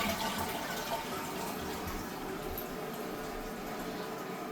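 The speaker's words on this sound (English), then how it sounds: "the toilet is always exciting when you flush it after having the water out because it has a big air bubble in it" Toilet flushing with a big air bubble after its water was drained: a steady, close rush of water running the whole time, broad and unbroken, with no voices.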